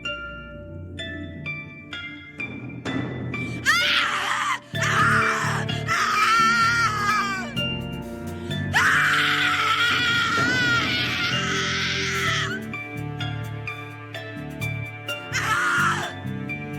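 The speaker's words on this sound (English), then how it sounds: "Your scream is like a poem without words." A person screaming in the video game The Cat Lady: repeated loud, anguished wails and shrieks come in several long bursts over eerie, sparse music, with sobbing and groaning between them.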